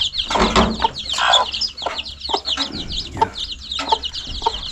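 Chickens and young chicks on a small farm cluck and peep continuously, a busy overlapping chorus of high chirps with louder clucks and some wing flapping close by.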